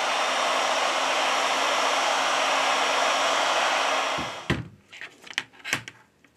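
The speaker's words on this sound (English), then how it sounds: "With the help of a heat gun, we apply 90 Celsius degrees during 4 minutes." Heat gun blowing hot air on an iPhone 8 during repair, a loud steady whooshing hum for about four seconds that cuts off, followed by several close clunks and handling knocks.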